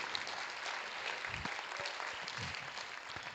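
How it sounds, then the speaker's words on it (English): Soft, steady applause from an audience at a meditation leaders' conference, faint and somewhat distant, continuing evenly throughout. "So let's give them a big round of applause for doing."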